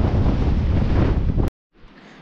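Gusty wind rushes over a gin-clear mountain river's rapids, a loud broadband roar for about a second and a half before cutting out, then returning faintly.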